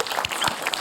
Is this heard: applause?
yes